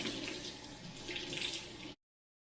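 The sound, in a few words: washing canning jars in warm soapy water at the sink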